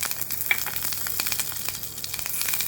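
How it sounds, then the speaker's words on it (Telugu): Curry leaves frying in oil in a pan give a close, steady hiss and crackle with scattered sharp pops throughout, with no talking. "వేసుకొని ఇది కూడా వేగాలి, కరివేపాకు అనేది."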